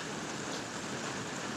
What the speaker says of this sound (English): Ain't nobody out in this rain.